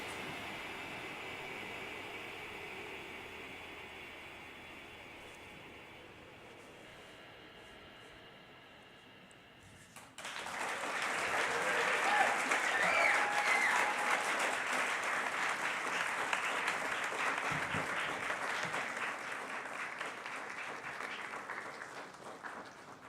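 Audience applause at a Naropa University Summer Writing Program faculty reading for two readers, Ben and Lucia, bursting in halfway through after a quiet stretch and continuing as a sustained crowd of clapping.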